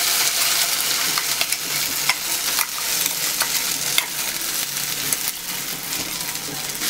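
Ground rice roasting in ghee with dry fruits, with a bright, steady sizzle and repeated scraping clicks as a spoon stirs the mixture in the pan, close and fairly loud, with no voices.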